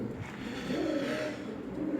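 Soft, low cooing from a domestic pigeon tending two chicks, a steady murmuring coo that runs throughout at moderate closeness.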